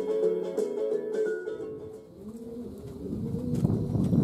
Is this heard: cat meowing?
no